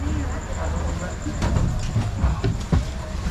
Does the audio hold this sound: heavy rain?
no